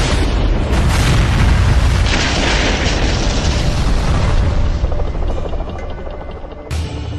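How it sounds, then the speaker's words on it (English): Two massive explosions erupt at an airport during a gunfight, loud booming blasts that roll into a long rumbling decay, with a sharp crack near the end. "He sees more gunfire, then 2 massive explosions."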